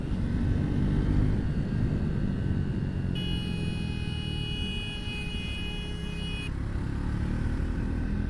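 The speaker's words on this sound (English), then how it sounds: "It's a simple sounding single cylinder exhaust." A steady single-cylinder exhaust from a 2025 Triumph Speed 400 motorcycle drones at moderate level under road and wind noise, with a thin high whine joining midway.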